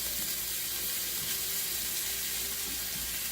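Frozen onions sauté in hot oil for a cheesesteak, giving a steady, dense sizzle that hisses loudly and evenly throughout with no talk.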